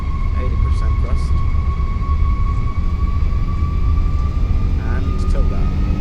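Simulated Airbus A330-300 jet engines in X-Plane 12 hold a steady, loud roar with tonal whine across the clip, building toward takeoff thrust, while a voice talks over it.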